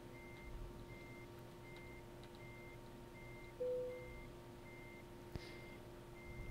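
A truck reverses and parks in Euro Truck Simulator 2, its evenly spaced reversing beeps repeating over a low engine hum, faint and steady, with a brief hiss and one sharp knock near the end.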